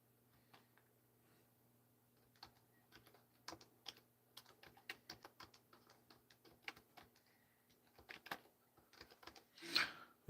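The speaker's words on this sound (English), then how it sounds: "So, now let me type into here. Where's my keyboard?" Quiet, close clicking of keys on a computer keyboard, irregular bursts of typing with short pauses, over a faint steady hum.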